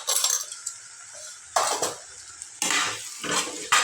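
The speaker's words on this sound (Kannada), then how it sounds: "ಹಾಕಿ ಚೊಲತ್ನಾಗ ಮಿಕ್ಸ್ ಮಾಡ್ಕೋಬೇಕು" A spoon scrapes and clatters against a pan while spice masala with coriander powder and garam masala is stirred in for paneer bhurji. Bursts of stirring alternate with brief quieter pauses, close and fairly loud.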